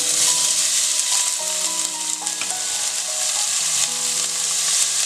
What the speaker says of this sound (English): In the same pan I am going to add oil. Add chopped onion.